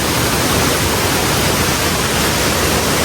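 Kaparkan Falls in the Philippines pours down in a loud, steady, unbroken rush of white water that fills the whole scene, with no voices.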